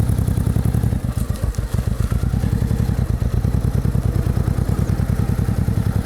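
Warmed-up motorcycle engine idling steadily up close, a dense, rapid low-pitched thrum with clattering, crackling pulses that holds evenly throughout with no voices over it.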